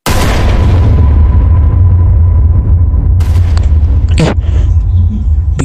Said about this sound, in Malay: Dengar macam bunyi kereta terhempas.